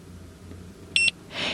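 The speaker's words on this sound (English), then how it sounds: "Simply hold down the Favorite button until it gives 2 quick beeps and the light flashes." Two quick electronic beeps from a Fisher & Paykel EcoSmart washing machine when the Favorite button is held, short and close together, clear over a quiet background.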